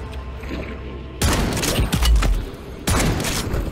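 Shotgun blasts fired at zombies in Modern Warfare 3 Zombies, a few heavy booming shots with mechanical clatter between them. The loud bursts break in after a quiet opening and return near the end, with no talk.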